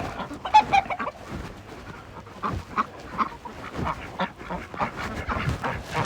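Chickens cluck and squawk busily while being fed scattered whole corn, a close, lively stream of overlapping clucks and calls with no talking.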